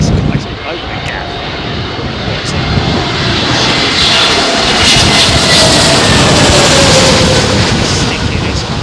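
A Lufthansa airliner makes a crosswind approach to land at Heathrow, its engines roaring loud and steady with a broad rushing noise that swells and holds, while people talk faintly.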